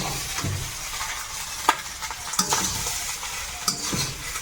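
Egg fried rice with prawns being stirred in a wok, a steady oily sizzle under repeated scraping strokes and a few sharp clicks of the spatula against the pan, close and alone without talk.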